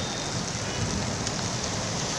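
Steady unseasonal afternoon rain hissing down continuously over a city, a dense even wash of drops with no voices.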